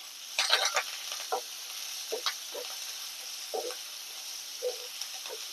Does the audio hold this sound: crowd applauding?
no